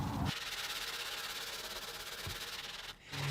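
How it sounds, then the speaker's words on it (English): Steady, close scratchy rubbing of 320-grit sandpaper across a sealer-coated acoustic guitar, continuous for a few seconds before a brief pause near the end. "So we're gonna give this a light sanding. I'm gonna use some 320 grit sandpaper."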